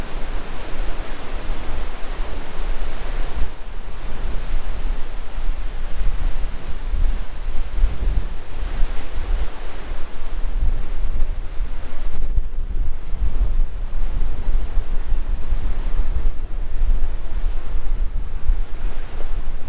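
Strong wind roars by a river at Horse Shoe Bend in the West Gippsland bush, a loud continuous rush buffeting the microphone throughout with no talking.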